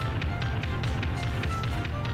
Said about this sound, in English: You hear every footstep.